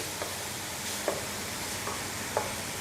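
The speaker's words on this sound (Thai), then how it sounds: "ทีนี้ใส่ขาหมูที่เราหั่นไว้ลงไปได้เลย" Pork leg pieces, about six and a half kilograms, stir-fried with chilies in a pot, giving a soft continuous sizzle with a few faint scraping stirs of the spatula, fairly quiet and steady without voices.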